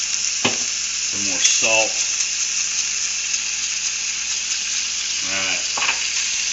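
Eggs fry in a pan with a steady, bright sizzle that runs the whole time, and someone talks briefly over it now and then.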